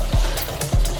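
Water sloshing and trickling as a bowl of mixed lentils (chana, mash, masoor and moong dal) is rinsed, with two short splashing pours a moment apart, close and fairly soft.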